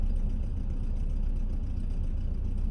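A BMW M10B18 four-cylinder engine idling at around 900 RPM during an auxiliary air valve test, a steady low rumble that holds even and continuous throughout, close by with no voices.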